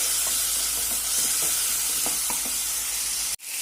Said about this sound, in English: Add a wee bit of salt just to get the the tomatoes done, and give them a good stir.